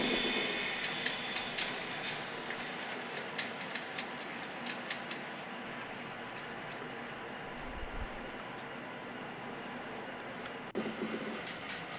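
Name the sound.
model train running on layout railroad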